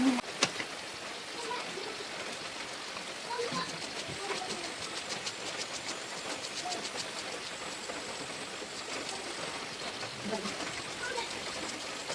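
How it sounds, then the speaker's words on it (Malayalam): Steady rain falls around a home, a constant hiss with scattered sharper drips throughout and faint voices in the background. "മഴ പെയ്യാണ് അപ്പോൾ ഓഡിയോ അതിൻ്റെ ഒപ്പം"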